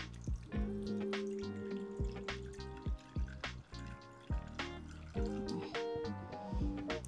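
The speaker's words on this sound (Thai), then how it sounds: "มาเริ่มที่ตวงน้ำนะคะ" Water poured into a measuring cup for homemade vanilla syrup, a close, trickling and splashing stream with uneven drips and bubbling.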